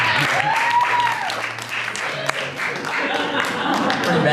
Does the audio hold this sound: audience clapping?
yes